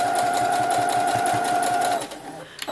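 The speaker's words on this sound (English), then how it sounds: "we're just going to sew along the top" A sewing machine stitches along the top of a lavender bag in a fast, even mechanical chatter for about two seconds before slowing and stopping.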